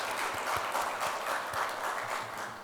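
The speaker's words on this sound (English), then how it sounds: "Let us have a big round of applause for World Congress of Accountants." An audience applauds at the World Congress of Accountants event in India, a steady wash of clapping held at even loudness throughout with no voices over it.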